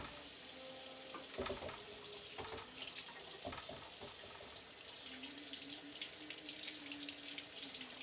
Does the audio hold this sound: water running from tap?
yes